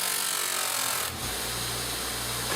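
A buffing wheel with polishing compound works an AK47 bolt carrier from a WASR rifle, a motor whine rising to a loud steady grinding hum once the metal meets the spinning wheel.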